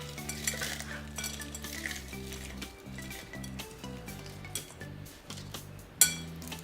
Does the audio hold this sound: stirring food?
yes